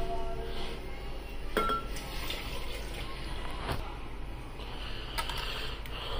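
Milk poured into a mug while making lassi in a kitchen, a steady soft liquid pour with occasional clinks of dishes and cutlery nearby.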